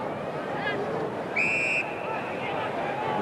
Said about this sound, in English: The whistle has sounded.